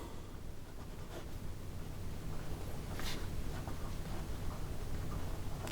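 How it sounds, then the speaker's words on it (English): A Montblanc fountain pen with a fine 14-karat gold nib moves across paper, producing a faint, continuous scratchy rasp with a few soft ticks over quiet room noise. "Here we go with the writing sample for the Montblanc"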